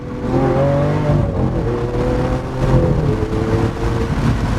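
A 2016 Lamborghini Aventador Roadster accelerating, a loud, close engine roar with rising and shifting pitch that holds strong throughout.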